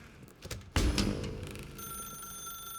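A desk telephone rings in The Stanley Parable, a steady electronic bell tone sustained after a sharp onset, fairly loud and alone with no voices.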